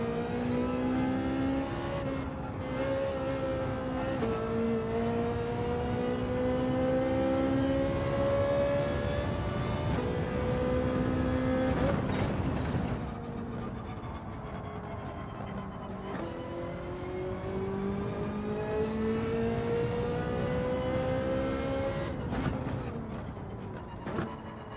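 A race car engine in Gran Turismo 7 revs and holds high, its pitch climbing and dropping through gear changes in a steady, loud drone with no talking.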